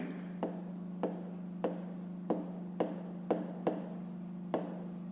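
Pen strokes writing out a fifth-grade math exercise, a series of light, evenly spaced taps and scratches on paper, close and quiet over a steady low hum.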